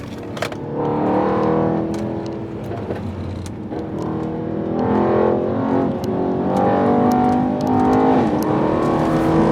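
A 2019 Mercedes-AMG E63 S engine roars close by in manual mode, with repeated sharp throttle blips rising and falling over a constant mechanical drone.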